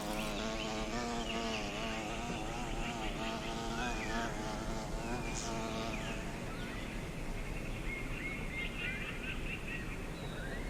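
Hornets buzzing steadily through a summer scene, a dense, continuous insect drone with wavering tones and occasional nearer fly-bys, loud and close throughout.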